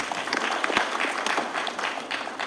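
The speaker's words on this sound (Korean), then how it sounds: "여러분들 박수 한번 보내주십시오." An auditorium audience at a science and technology entrepreneurship camp bursts into steady, dense applause, many hands clapping together at moderate distance and filling the whole moment without any talk.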